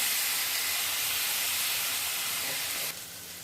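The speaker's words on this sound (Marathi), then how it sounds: "मूग डाळ थोडीशी परतून झाली आहे," Soaked mung dal sautéing in a pan with onion and crushed garlic, giving a steady, fairly loud broadband hiss and sizzle that drops slightly near the end, no talking.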